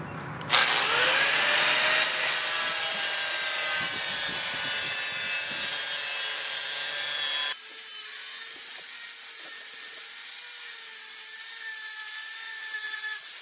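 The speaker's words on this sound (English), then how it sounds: "the long pieces, I'm gonna cut with an angle iron" Continuous loud grinding of an angle grinder cutting through long rebar pieces, steady and close for the whole stretch, with the tone dropping slightly partway through as the cut changes; no talking.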